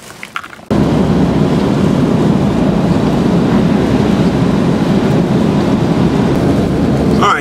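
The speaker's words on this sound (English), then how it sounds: "the rain is definitely coming down." Steady heavy rain pours down continuously after a brief quieter start, a dense even hiss filling the whole stretch with no talking.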